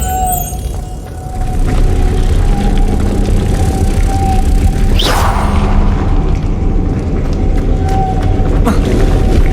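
Spell blasts go off in the video game Hogwarts Legacy: a loud booming impact with a sharp whoosh about halfway through, over a constant rumbling game soundscape with a faint sustained tone.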